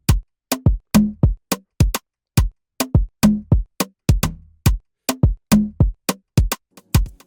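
A simple programmed drum groove from FL Studio, with punchy kicks and crisp snares and hats in a steady repeating pattern, loud and close with nothing else over it.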